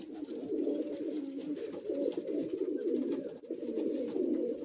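Andhra pigeons kept for sale coo continuously in a low, throaty, rolling murmur, several birds overlapping close by, with faint higher chirps above and no talk.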